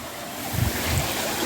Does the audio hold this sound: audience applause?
no